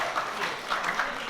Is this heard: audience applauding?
yes